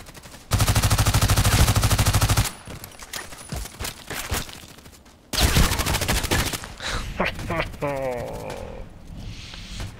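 Gunfire rings out in the shooter Contract Wars, with a dense, loud burst of rapid automatic fire, a pause with scattered single cracks, then a second long volley followed by echoing shots and clatter.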